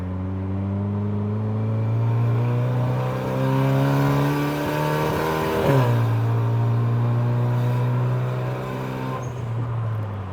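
A modified car's engine held at high revs drones steadily nearby, its tone briefly dipping and hiccuping in the middle before picking back up, with no voices.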